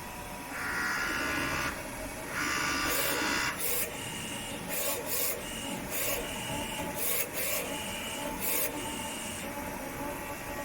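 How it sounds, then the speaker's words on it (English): A dual-head Epson DTF printer (F1080/XP600) prints a vertical test pattern, with a steady mechanical whir and repeated rasping carriage passes and clicks, loud and close with no talk. "Then the printer will start to print a vertical test picture out."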